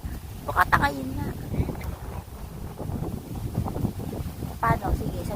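Wind buffeting a microphone outdoors while people fly a kite, with low, uneven rumbling gusts throughout and people talking over it at intervals.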